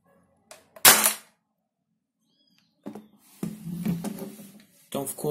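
A small spring-powered mini airsoft rifle toy with a shortened barrel fires one sharp, loud snap near the start, followed later by someone speaking nearby.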